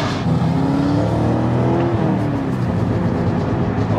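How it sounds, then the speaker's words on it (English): A Cadillac CT5-V Blackwing accelerates hard, its engine note climbing in rising sweeps as gears change, loud and close, with crackling exhaust backfires and no talk. "Oh, you get some backfires too."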